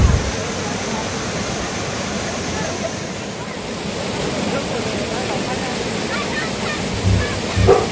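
Rushing water of Bhaje waterfall near Lonavala, a steady loud roar filling the whole clip with no pause, with a few brief louder bursts near the end.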